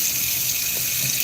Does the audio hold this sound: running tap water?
yes